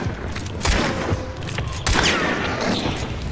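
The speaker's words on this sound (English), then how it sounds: "And I have missed all three of those last shots." Several loud, close gunshots in Hunt: Showdown, each sharp crack followed by a booming echo, spaced about a second apart over continuous background noise.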